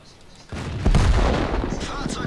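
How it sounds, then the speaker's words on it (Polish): A tank cannon firing in World of Tanks: a sudden heavy boom at about half a second, then a louder low blast that rumbles on under a busy battle mix. "Charlotta do mnie strzela"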